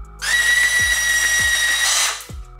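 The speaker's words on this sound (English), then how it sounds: "we're just gonna cut them down because I want to reuse these factory bolts" Power tool cutting down factory steel bolts during a caliper angle kit install on an S197 Ford Mustang 5.0 drift car: one steady high-pitched whining cut of about two seconds, loud and close, with no talk.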